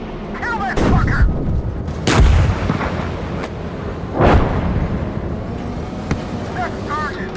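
Tank cannon rounds boom at a BMP infantry vehicle in the tank combat game GHPC, with several heavy, close blasts spaced a couple of seconds apart over a low rumble, and crew voices talking between them.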